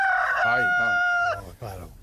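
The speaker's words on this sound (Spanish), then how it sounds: "pocas cosas dicen más rural que el canto de gallo" A rooster crows once in a long, loud, close call with a strained, rising-then-falling tone, its last notes breaking up into a ragged tail.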